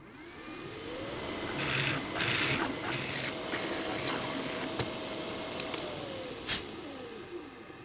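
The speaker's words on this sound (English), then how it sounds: "I'll drill a pivot hole for the drawer to hinge on" A drill press motor whines at a steady pitch while the bit grinds into a wooden drawer, with a few clicks and taps, then the motor spins down.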